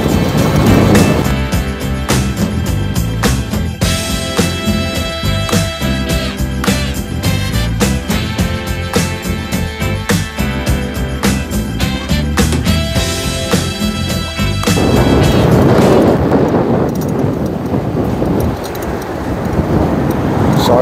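An electric small-frame bike with a twin battery accelerates along a road, a loud rising motor whine heavily mixed with rushing wind noise, steady for about fifteen seconds before easing off.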